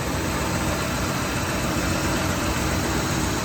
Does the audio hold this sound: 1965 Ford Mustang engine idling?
yes